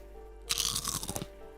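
A close, loud bite into crunchy kettle-cooked jalapeño Lay's potato chips, one brittle crunch breaking into a short flurry of crackles for under a second, with no talk.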